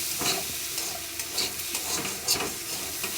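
Grated ginger fries in oil in a pan for a lentil and potato dish, a steady close sizzle with repeated rhythmic scrapes of a spatula stirring it.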